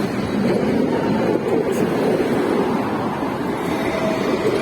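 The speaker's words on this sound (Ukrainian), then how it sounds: "трамвайчик переїхав." A steady low rumble of a tram rolling past nearby in Bratislava, continuous and fairly loud throughout, with no voices.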